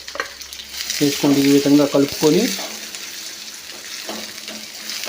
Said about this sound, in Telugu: ఇందులో సన్నగా తరిగి పెట్టుకున్నటువంటి ఆనియన్స్ వేసుకోండి